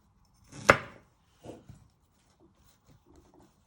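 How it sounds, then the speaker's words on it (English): A knife trims broccoli stalks on a board, giving one sharp close chop followed by a softer second cut and a few faint taps, quiet otherwise. "you keep trimming your stalks off your broccoli"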